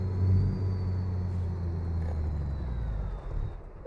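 Heavy truck engine in American Truck Simulator rumbling steadily and deep, a continuous low drone holding at even loudness throughout, with no voices.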